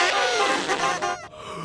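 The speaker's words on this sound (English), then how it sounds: "You may even hear the calls of migrating geese." Loud, close honking calls of geese, overlapping and continuous for a moment, harsh and nasal with no voices.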